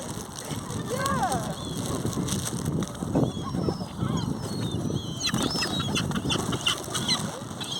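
A crowd of fowl, including geese, squabble over food with honks, clucks and bursts of wing flapping. The busy, overlapping calls come from close by, and people talk over the commotion.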